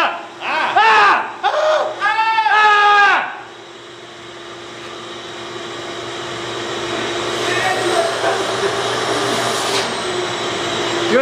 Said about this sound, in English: that's what Batman is vacuuming up right now